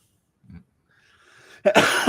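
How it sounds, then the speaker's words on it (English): A single short, harsh cough bursts out close to the mic after near silence, preceded by a faint thump and a soft breathy sound. "I got this cough"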